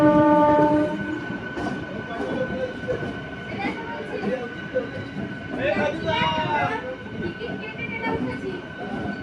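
Jayrambati-Bankura MEMU local train running on rails at sunset, heard from inside the carriage as a steady rumble with rhythmic wheel clatter, a horn sounding early on, and a voice talking over it.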